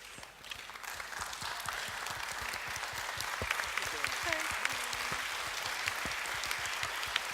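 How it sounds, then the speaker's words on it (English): A standing audience at an Asian psycho-oncology conference applauds new presenters on stage, a dense, steady wash of clapping that holds for several seconds, with a few voices faintly audible in the crowd. "give them a big applause"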